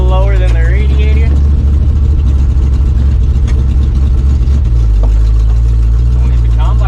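A V8 engine swapped into a Suzuki runs close by at a steady idle, a deep continuous rumble with someone talking over it at the start.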